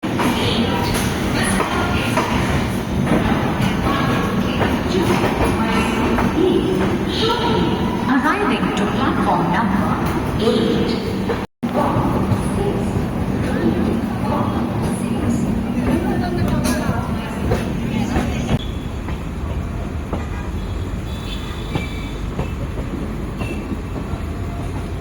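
The Ashokapuram Express pulls out with steady rail rumble and clattering carriages, a loud continuous mechanical drone with people chattering nearby throughout.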